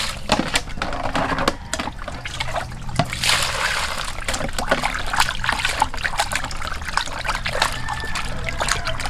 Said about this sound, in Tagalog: Hugasan natin ang maigi yung karne